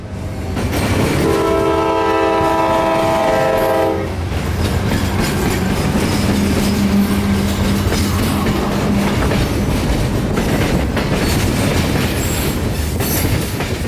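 A loud train horn sounds for a few seconds as a CSX freight train rumbles past crossing the Little Manatee River, followed by steady rolling wheels and clattering cars close by.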